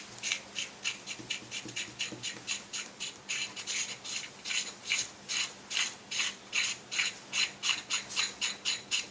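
Rapid ratcheting clicks from a screw being backed out of a Jupiter-3 camera lens, starting faint and irregular, then growing into a louder, even run of close mechanical ticks.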